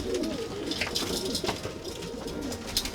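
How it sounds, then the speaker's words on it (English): A racing pigeon coos softly and close, a low repeated burbling murmur that rolls on through the moment with faint background noise. "Racing pigeon, just trying to get home."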